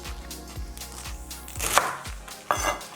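A knife chops through a tightly held bundle of collard greens on a cutting board, making a steady series of crisp, thudding cuts about every half second, close and clear with no talk.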